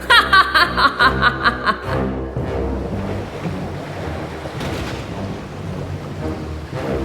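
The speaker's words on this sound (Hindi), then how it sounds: "मैंने कहा बिजली, तूफान और गर्जना के साथ भेजो, लहरों को भेजो नौका को पलटने के लिए" Stormy sea with thunder and crashing waves around a boat, a loud churning roar of surf and wind rumbling continuously after a short burst of music at the start.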